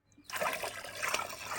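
Water trickles and splashes steadily through a hole in a freshly made cement plant pot, a close, continuous liquid rush starting abruptly and running without pause.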